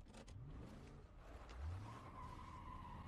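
A car skids with screeching tires in a scene from The Last of Us TV episode, a loud rising squeal over continuous engine and road rumble lasting the full few seconds.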